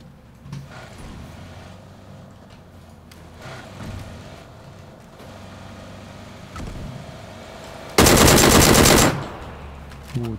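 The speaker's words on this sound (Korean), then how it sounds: "딜 개쎄. AK 소리랑 똑같아." In the video game PUBG, a new assault rifle that sounds like an AK fires one loud burst of about a second of rapid automatic shots. Quieter ambient game noise and vehicle hum come before the burst.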